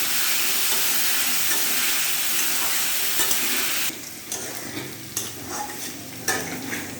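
Potatoes frying in hot oil, a loud dense sizzle that drops to a quieter crackle partway through, broken by intermittent scrapes and clinks of a spatula stirring in the pan.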